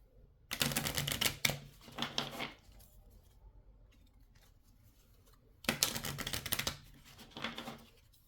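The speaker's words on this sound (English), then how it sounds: "Have to reshuffle real quick." A deck of cards being reshuffled during a tabletop game, heard as two bursts of riffling and bridging with quiet pauses in between, close and clear.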